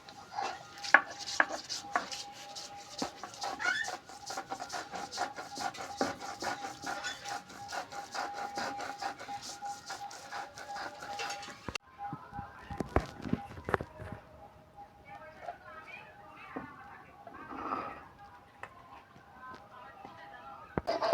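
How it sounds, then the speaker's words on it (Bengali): Lentils are ground by hand on a shil-bata stone with a rapid, close, rhythmic scraping and knocking that stops, and then comes back in slower, sparser strokes. A voice talks over part of it. "ডালগুলো এবার আমি বেটে নেব শিলবাটাতে।"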